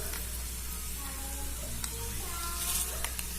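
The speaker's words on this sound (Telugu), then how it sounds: "పచ్చిమిర్చి, కరివేపాకు వేసుకొని బాగా వేయించుకోవాలి" Mustard seeds, dried red chillies, green chillies and curry leaves tempering in hot oil for pulihora, giving a steady close sizzle and hiss with faint crackles and occasional pops.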